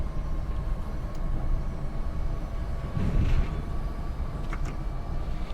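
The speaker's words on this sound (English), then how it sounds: "I also like the flange sounds and the rolling sounds on the American trains." Rolling NJ Transit train in a train simulator game on the Morristown Line, a steady low rumble of wheels on rail with faint metallic squeals, continuous and fairly close, no voices.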